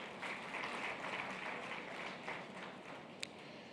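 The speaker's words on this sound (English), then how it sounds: "A round of applause for him, please." An audience at a conference panel session applauds a panelist, a soft, distant, continuous patter of clapping with one sharper clap near the end, no voices over it.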